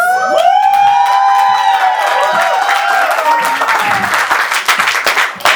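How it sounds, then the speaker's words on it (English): A stand-up comedy audience applauds loudly and close by, with whistles and whoops rising over the clapping before it gradually thins toward the end. "stop clapping"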